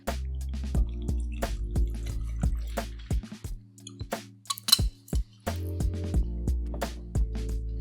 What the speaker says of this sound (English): So let's go ahead and pour.